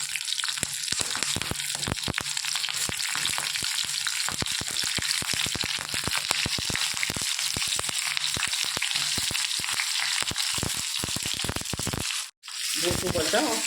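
Stuffed green chillies fry in oil in a pan, giving a continuous crackling sizzle dense with popping spatters, nearby and steady, with a brief gap near the end.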